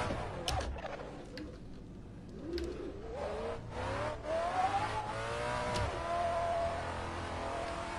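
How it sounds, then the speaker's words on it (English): A race car in the Assetto Corsa video game revs and accelerates through its gears, the engine pitch rising and falling steadily over several seconds with a few sharp transient clicks. "I think it's time to take this car for a spin."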